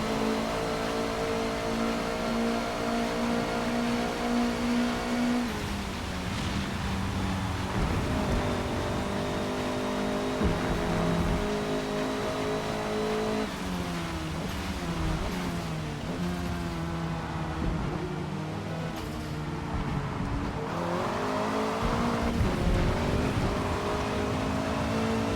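Honda #73 Civic race car on the Suzuka circuit in the Forza Motorsport video game, its engine droning loud and steady on the last lap, rising and dropping in pitch through gear changes and corners, alone with no talk.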